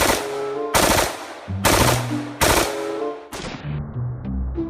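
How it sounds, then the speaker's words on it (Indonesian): A toy M16 rifle fires in four bursts of rapid electronic gunfire, each burst loud and close with short gaps between them, the last one tapering off into fading tones. "yang ini senapan M16 teman-teman"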